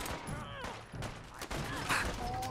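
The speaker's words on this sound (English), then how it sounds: "Where am I being shot from?" Gunfire in the video game Fallout 4, a quick fusillade of several sharp shots with game effects around them, fairly close and loud, with no talking over it.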